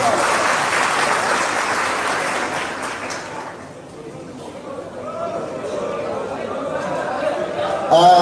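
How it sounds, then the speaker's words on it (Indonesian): Applause from a gathered audience at a religious talk and gathering, loud at first and then fading into crowd chatter and murmuring voices, with people talking nearby toward the end. "Tepuk tangan semuanya, teman-teman sekalian"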